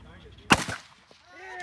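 A single sharp, loud rifle shot from a 7.62 rifle fired at targets on an outdoor range, cracking close by and echoing briefly, with faint voices around it.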